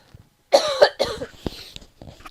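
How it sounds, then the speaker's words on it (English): One person coughs several times in quick succession at close range, with harsh bursts and then a few smaller throat sounds trailing off, against near silence indoors. "I'm going to cough, sorry, hang on."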